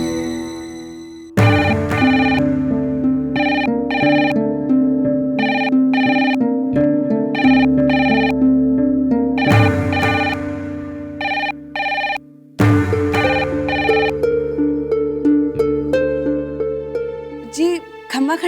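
A telephone rings repeatedly while a home number is being called, the ringtone bursts coming in regular pulses with short breaks, loud and close, with no speech over it.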